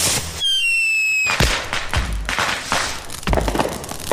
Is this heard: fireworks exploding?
yes